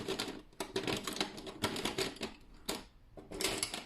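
Pencil drawing sound effects added over a caricature sketch in black pencil: quick dry scratchy strokes in irregular bursts, close and fairly loud, with brief pauses between runs of scribbling.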